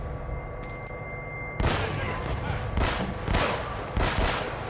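Gunfire in the video game Uncharted: Drake's Fortune: after a low rumbling backdrop, four loud, sharp bursts of shooting arrive about once every second, each with a quick decay, with no talk.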